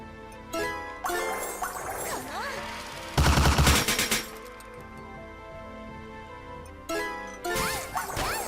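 Bursts of explosions and rapid gunfire in the game Isekai Quest crackle in waves as bombs drop, with a loud booming blast in the middle and clinking debris between bursts.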